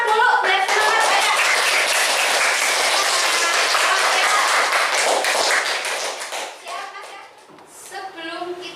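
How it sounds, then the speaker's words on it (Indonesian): A class of children clap together during an Indonesian school lesson, a loud, sustained wave of clapping that fades after several seconds into scattered claps and children's voices. "yang semangat tepuk tangan dulu"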